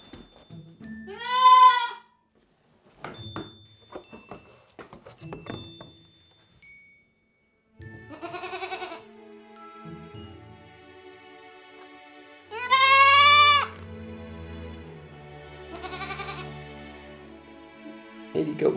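A goat bleats loudly several times with long, wavering cries, each followed by short gaps of quieter room sound and light knocks, at a birthday party for the goat.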